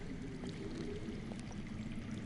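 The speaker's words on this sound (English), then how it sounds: "I hear water. From underground." Steady low rushing of underground water in a video game, a constant muffled flow with faint scattered drips, heard alone without talk.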